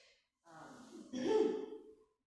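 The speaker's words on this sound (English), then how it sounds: "So yeah, ocean breathing, Darth Vader breath, that's Ujjayi." Ujjayi ocean breathing from yoga pranayama: one slow, close, audible breath cycle with a hissing, throat-constricted rasp, a softer inhale followed by a louder, airy exhale, alone.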